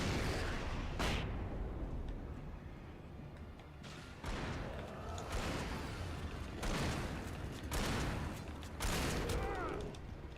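A flashbang grenade in the video game Alan Wake goes off with a loud, dense burst of bangs and booming rumble that repeats over several seconds, a sustained, heavy din.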